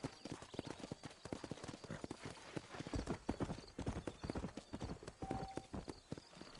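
Steady clip-clop of horse hooves in the video game Red Dead Redemption on PS5, trotting at a quick, even pace, close and fairly loud against faint background noise.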